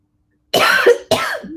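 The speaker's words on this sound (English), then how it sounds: "I'm sorry, I'm coughing," Two harsh coughs from an older man, loud and close, follow each other quickly after a moment of silence.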